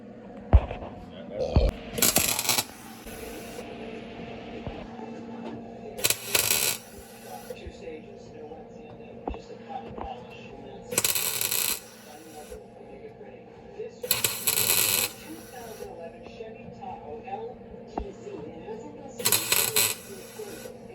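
An Eastwood 135 welder tack-welds a California trunk pan into a 1969 Buick Skylark GS, giving five short, loud, crackling bursts spaced a few seconds apart, with someone talking in between.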